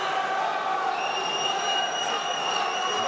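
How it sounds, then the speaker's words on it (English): Crowd noise at a Thai Fight kickboxing event in Paris, a steady roar of many voices and cheering filling the arena, continuous and loud with no breaks. "there's a lot of noise in the crowd here, a lot of interest, a lot of support for the French fighter"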